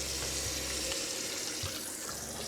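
A van's water pump runs a steady stream of tank water into a sink drain, making a close, continuous rushing splash with faint low hum beneath and no talking.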